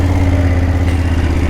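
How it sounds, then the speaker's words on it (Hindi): A BMW motorcycle engine idles steadily up close, a continuous low rumble with a strong hum and no speech, the bike ready for a Char Dham mountain trip in India. "अपनी बाइक रनिंग हो गई बिल्कुल रेडी"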